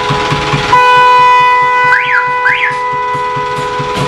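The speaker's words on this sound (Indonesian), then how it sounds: "Ya, klaksonnya kencang banget." Loud musical horn of a custom Jetbus mini tourist train, a sustained multi-tone blast with two rising-and-falling warbles, close and dominating, with a low engine idle underneath.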